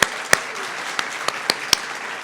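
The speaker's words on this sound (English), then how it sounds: "So let's give them all a round of applause." Applause for graduates at an occupational therapy pinning ceremony, thin and scattered, with a few sharp individual claps standing out over a soft background wash.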